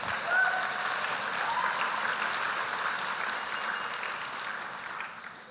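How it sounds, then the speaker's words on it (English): A crowd at an Indigenous community speech claps warmly, many hands producing a steady full texture that holds evenly and then trails off at the close. "Give yourselves a clap for that,"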